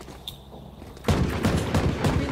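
Video game gunfire erupts after a second of near quiet, a rapid burst of loud automatic shots close by, preceded by a faint click.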